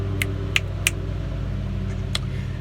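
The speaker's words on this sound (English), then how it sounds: "the man, the lawnmower." A lawnmower cutting grass nearby gives off a steady, low motor drone that holds an even level, with a few short sharp clicks over it.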